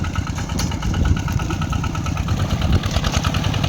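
Close by in a paddy field, a plowing tractor's engine idles with an even, throbbing rumble and a light metallic rattle, with no voices over it.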